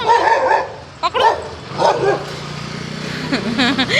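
A dog barks and whimpers in short bursts at close range outdoors, with yips scattered through, while people talk and call out over it.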